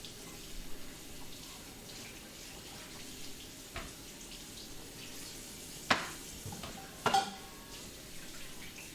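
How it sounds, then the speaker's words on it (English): Tap water runs steadily into a sink while a sausage grinder is washed, with a few sharper metallic knocks and clatters over the flow. "Washing the sausage grinder right now."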